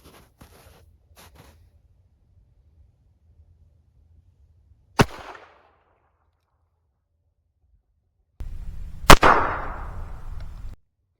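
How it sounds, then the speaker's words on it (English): Flare gun loaded with .22 shells, fired outdoors while hunting: a sharp crack stands out from near silence, and a few seconds later a second, louder crack rings out over a brief low rumble. "We'll go ahead and shoot 3 shots to get a good group."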